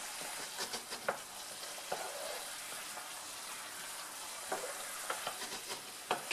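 Brussels sprouts with chives and lardons being stirred in a pan, a wet scraping and soft sizzle with a few sharp spoon clicks against the metal, close and steady with no voices.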